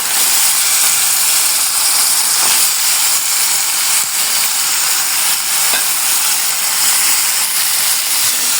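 Meat dropped into a pan with ginger, garlic and onion paste fries with a loud, steady sizzle and hiss, close and continuous, with faint stirring scrapes and no talking.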